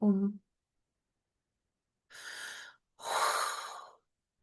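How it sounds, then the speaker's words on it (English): Audible breaths during a guided prayer. One short voiced exhale comes first, then two long, airy breaths after a pause of silence, all close to the microphone. "Breathing."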